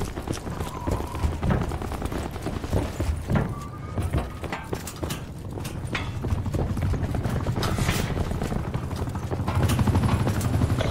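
Enemy attack helicopter flying overhead in Call of Duty: Black Ops 4 multiplayer on Xbox One, a continuous rotor thrum building louder toward the end amid clattering gunfire and game effects.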